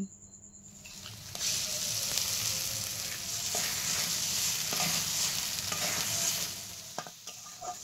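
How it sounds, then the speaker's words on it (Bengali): Two eggs sizzle and fry steadily in a hot pan with fried onions and spices while a utensil stirs and scrapes through them, breaking them up, with a few sharper clinks near the end. "এবার একটু নেড়ে চেড়ে ডিমটা ভাঙা ভাঙা করে নেব"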